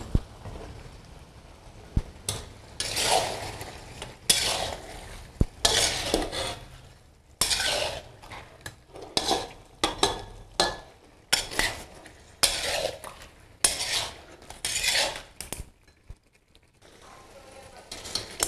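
Beef chaap with yogurt stirred and fried in a wok: repeated bursts of metal utensil scraping and clanking against the wok in an uneven rhythm, with a light sizzle beneath and short pauses between strokes.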